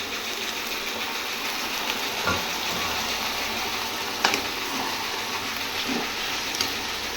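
Half a kilo of washed chicken fries in a hot pan, giving a steady, dense, close sizzle throughout with a few faint clicks and scrapes over it.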